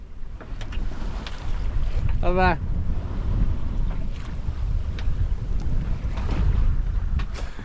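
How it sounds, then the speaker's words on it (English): Strong wind while sailing a yacht at sea: steady, loud rushing wind noise with water wash runs throughout, with a brief voice and a short creaking or whistling sound near the start. "Wind's trickling back slowly. Come on, wind. Blow us the way we want to go."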